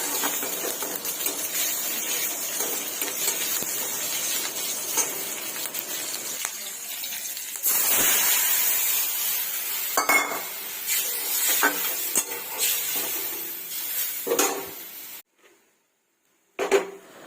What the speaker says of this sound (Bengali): এবার তেলের মধ্যে পাঁচ ফোড়ন আর কাঁচা লঙ্কা দিয়ে তেঁতুল জলটা ঢেলে দেবো